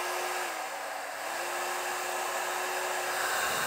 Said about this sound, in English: salon hair dryer with powerful airflow, and it's lightweight